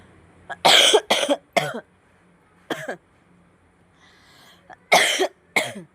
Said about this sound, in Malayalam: നല്ല ചുമയുണ്ട് കേട്ടോ